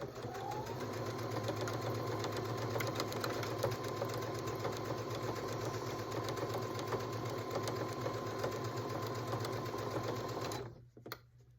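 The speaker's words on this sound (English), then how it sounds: "I like to slow my machine down a little bit when I'm going around these really tight curves." Sewing machine stitching tight curves on a baby bib, a steady close whirring motor hum running continuously for about ten seconds before stopping abruptly near the end.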